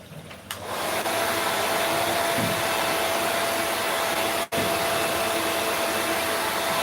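Hair dryer running during a natural hair detangling session in a salon, a loud continuous close-up whoosh that holds steady with one abrupt brief dropout partway through, no talking.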